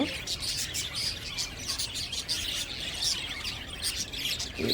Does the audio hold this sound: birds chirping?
yes